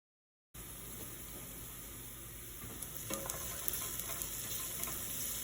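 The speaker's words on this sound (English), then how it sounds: "Then saute finely chopped garlic with the olive oil until golden brown." Finely chopped garlic sautés in olive oil for pasta sauce, a steady sizzle and frying hiss that holds throughout, with a few small pops and stirring scrapes toward the end.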